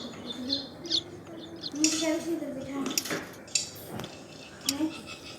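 Mint plants are trimmed at home, giving light snipping and rustling clicks in short irregular bursts. A person talks over them and birds chirp faintly in the background.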